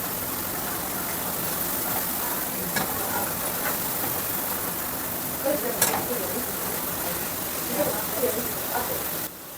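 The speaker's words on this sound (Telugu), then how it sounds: "బాగా గోల్డెన్ కలర్లో వచ్చేంత వరకు బాగా ఫ్రై చేసుకోవాలి వీటన్నిటిని." Wheat flour bellam gavvalu fry in hot oil with a continuous crackling sizzle and occasional sharp pops, and a voice talks faintly underneath.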